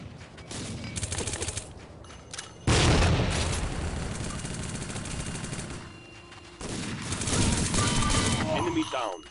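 Grenade blast in the Tactical Ops shooter: a sudden loud boom that cuts in abruptly, followed by a long rumbling roar of sustained gunfire and chaotic noise that surges again later.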